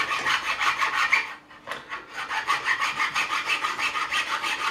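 A metal file rasps in steady back-and-forth strokes along the fret edges of a Fender '62 Telecaster vintage reissue neck during a re-fret, close and continuous with one brief pause midway.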